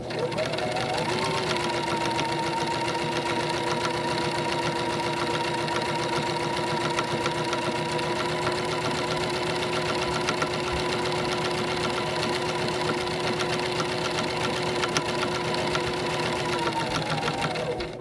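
A sewing machine stitches a fabric lanyard in one long, steady run, its motor humming with a fast even needle chatter, close and continuous, with faint talk underneath.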